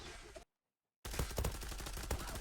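Gunshots from the Zula online shooter game come as a loud, dense string of sharp reports. A brief dead silence interrupts them before the firing resumes.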